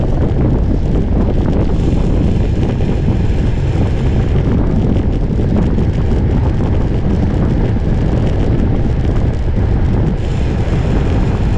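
Constant heavy headwind rumbles and buffets against the microphone while cycling, a dense, unbroken roar with no voices.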